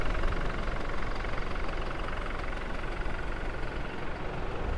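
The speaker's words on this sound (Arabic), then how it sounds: "هذا هو صوت المحرك في تويوتا هايلوكس" A 2024 Toyota Hilux pickup's diesel engine idles with a steady, rough low rumble and faint knocking, continuous and close, without any talking.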